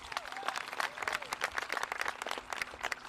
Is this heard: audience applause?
yes